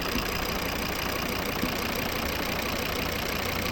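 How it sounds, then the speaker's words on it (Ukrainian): A 2012 Volvo V50 2.0 D3 five-cylinder diesel engine idles steadily up close, a continuous low mechanical rumble with an even, unchanging rhythm. "Ось робота двигуна"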